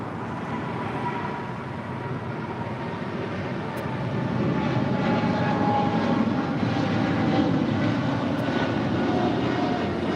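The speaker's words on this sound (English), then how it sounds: "We have the Cargo King 777 now rolling. It's China Cargo Airlines Flight 224." A China Cargo Airlines Boeing 777 freighter rolls for takeoff at LAX, its engines a broad, steady roar that grows louder and closer partway through, with no talk over it.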